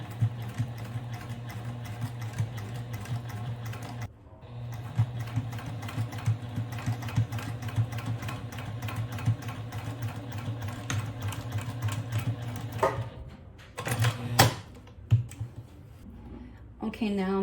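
Close-up domestic sewing machine stitching a tote bag, its motor whirring in a steady run that stops briefly near the start, then resumes before ending in short bursts of stitching amid handling clicks, with a voice talking over it.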